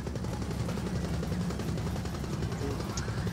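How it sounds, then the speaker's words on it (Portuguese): Helicopter in the video game Gears of War 4, a steady rotor chop pulsing low and continuous throughout, fairly faint and distant with no other sound rising above it. "Imagina quantos colégios daria pra construir com a verba desse helicóptero."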